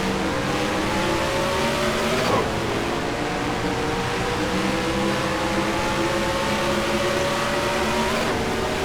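Race cars lapping the Atlanta track in the video game NASCAR Racing 2003, a steady loud roar of multiple engines with whining pitch sweeps as cars pass, continuous throughout with no talk.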